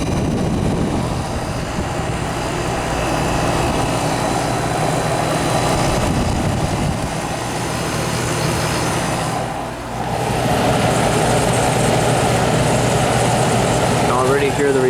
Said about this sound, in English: Hear the refrigerant flowing in there.